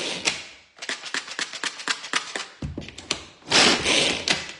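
A Tornado food chopper roughly chops a mix of walnuts, hazelnuts and almonds for a caramel tartlet, giving loud, close clattering bursts in quick pulses that pause briefly and then return as a sustained rattling grind.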